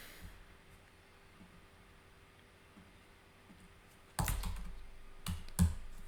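Brief bursts of typing on a computer keyboard, entering a short word into a chatbot, heard as a quick cluster of clicks followed by two shorter taps over faint steady background hiss.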